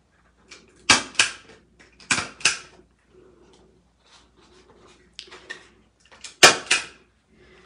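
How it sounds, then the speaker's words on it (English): A stapler punching through paper during oil pastel and collage work, heard as sharp clicking crunches in two pairs, each strike followed by a quick echo, then fainter tapping and a final loud pair of snaps. "My trusty stapler out, you know how I like to use that."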